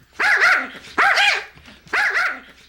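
Three loud, evenly spaced barks from a dog nearby, each short and sharp with brief gaps between.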